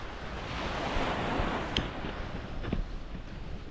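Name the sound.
ocean waves splashing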